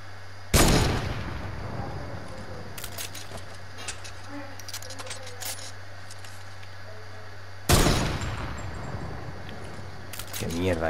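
Gunshots in a Fortnite match, with two sharp loud broadband bursts several seconds apart over steady game ambience and scattered faint clicks.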